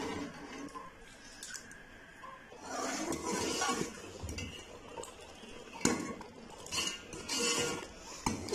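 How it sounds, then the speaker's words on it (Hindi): A spoon scrapes and clinks against a pot as rice and milk kheer is stirred continuously, with irregular metallic taps and rustling that grow busier midway and return in bursts toward the end. "इसे मुसलसल चमचा चलाते हुए जो है वो पकाएंगे, चमचा हमने छोड़ना नहीं है"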